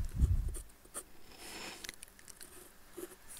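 Pen or marker writing out a math equation, soft scratchy strokes and light taps in short irregular bursts, faint and close, with no talking.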